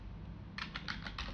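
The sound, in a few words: typing a command on a computer keyboard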